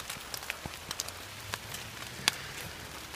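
Rain falls in a wet rainforest as a soft steady patter, with scattered drops ticking close by over a low background hiss and no voice.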